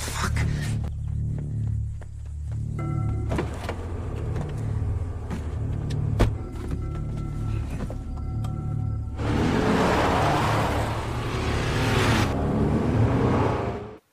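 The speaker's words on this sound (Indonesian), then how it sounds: "Sementara dirinya mengendarai mobil RV itu ke tengah-tengah antah berantah" An RV motorhome driven in a film scene, with a steady low engine rumble and road drone running throughout, joined by louder broadband road noise near the end.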